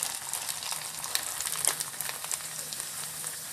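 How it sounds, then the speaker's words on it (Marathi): Rice kurdai frying in hot oil in a kadhai, a steady dense sizzle and crackle with scattered bright pops, close and continuous with no talking. "मी तुम्हाला दाखवणार आहे तळून आपल्या कुरड्या किती छान फुलतात त्या."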